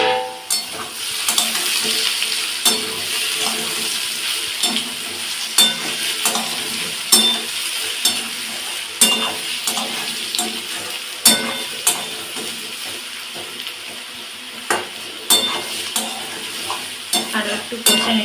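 Potato and poppy seed curry fries loudly in a pan under steady sizzling, while a spatula scrapes and knocks through it in repeated stirring strokes; close and continuous, with no voices.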